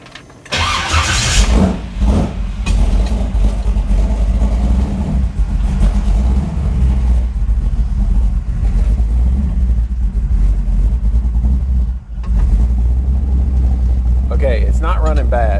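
A car engine fitted with an Edelbrock VRS 4150 carburetor runs at a loud, steady idle rumble, dipping briefly near the end before settling again, while people talk over it.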